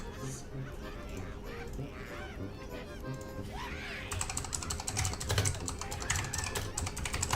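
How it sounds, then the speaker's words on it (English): Keys clatter on a computer keyboard in rapid irregular bursts during a World of Warcraft session, the typing growing louder and denser partway through, under ongoing background voices and game sound. "I'm typing all this out"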